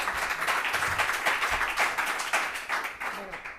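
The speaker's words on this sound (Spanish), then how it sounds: "Fuerte el aplauso para ella." An audience at a conference applauds, a dense patter of clapping hands from many people that holds steady for a few seconds before starting to thin out.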